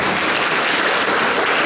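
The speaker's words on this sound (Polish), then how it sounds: "Dziękuję za brawa." Audience applause at a Polish festival cabaret performance, a steady dense wash of clapping from a hall crowd, loud and continuous throughout with no talk over it.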